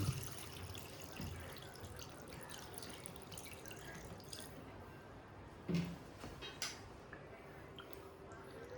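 Faint, steady water pouring over large tiger prawns in a pot for boiling, with a soft splashing hiss and a couple of small clinks partway through.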